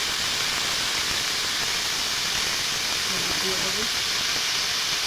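Green banana curry frying in oil in a wok, a steady loud hiss of sizzling that holds evenly throughout, with someone speaking briefly over it.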